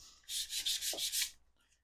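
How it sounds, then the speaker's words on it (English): Close-up sanding of paintwork on a 1/48 scale Tornado GR.1 model with a worn, very fine sanding sponge, a quick series of about six brisk rubbing strokes, soft and scratchy, with no voices. "just sanding it smooth, any high bumps of the paintwork"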